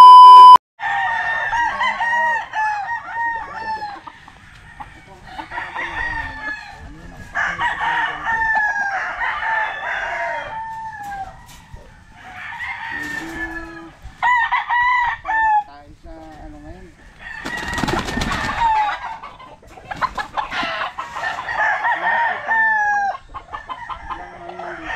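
Game fowl stags crow repeatedly at a gamefarm, several roosters calling one after another with loud, close crows and some clucking, with brief talk mixed in.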